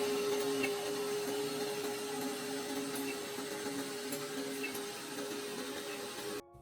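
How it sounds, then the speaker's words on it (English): An electric grinder whirs steadily as it grinds seeds into a crumbly, slightly moist powder, a constant close buzzing drone that cuts off abruptly at the end. "Grind until they become a crumbly, slightly moist powder."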